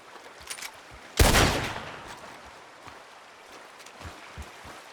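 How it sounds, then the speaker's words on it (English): A single sharp gunshot blasts a lock off in Red Dead Redemption 2, loud and close, with a decaying tail over quiet outdoor ambience and faint scattered clicks. "That lock should shoot off easy enough."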